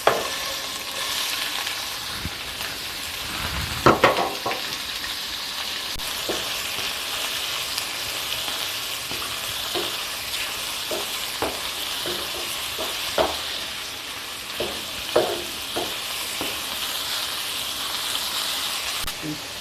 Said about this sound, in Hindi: अब इसमें हल्का सा फ्राई करेंगे।